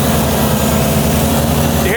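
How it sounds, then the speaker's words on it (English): A TerraKing TKV20 tractor engine bogs down under a heavy leaf-collection hopper load, a loud, close, steady low rumble droning for a couple of seconds. "you hear the engine dog down there?"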